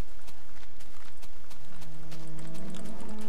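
Cows in the Minecraft video game give a drawn-out moo in the second half, heard over a steady background bed with faint clip-clop ticks, no voices present.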